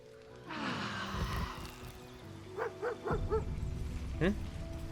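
A dog barks a few times in Baldur's Gate 3 while the party rests at camp, short yips standing out over game music and ambience, with a speaking voice nearby.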